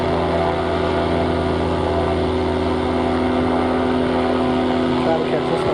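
Steady engine drone of an aircraft taking off near a docked cruise ship, a continuous tonal roar with constant loudness, heard alongside a voice.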